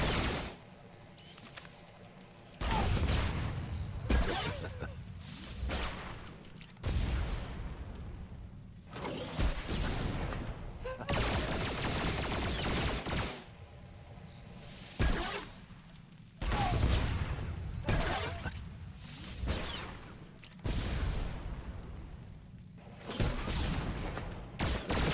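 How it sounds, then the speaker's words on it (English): Hunter ranged Auto Shot gunfire in World of Warcraft combat, heard as repeated loud bursts of blasts and whooshing impacts in blocks of a few seconds separated by brief quieter gaps, mixed with other spell effects. "I'm gonna have to auto shot here."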